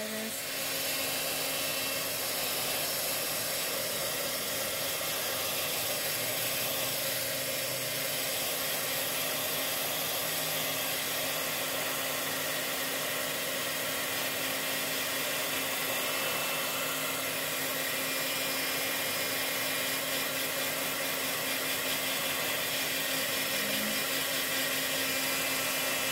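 Hair dryer blowing over a watercolor mountain landscape painting, a steady, close, loud whooshing hiss that holds unbroken for the whole stretch with a faint hum beneath.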